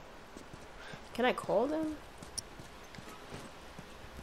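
Horse hooves clop faintly in The Last of Us, a soft, steady patter of light footfalls heard under a brief spoken question.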